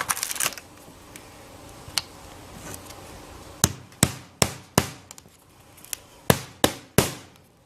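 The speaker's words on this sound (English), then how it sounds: "It's perfectly fine nailing these corners." A hammer drives nails into metal skylight flashing corners: a few scattered sharp knocks at first, then a quick run of about eight crisp, ringing blows, each one close and clear.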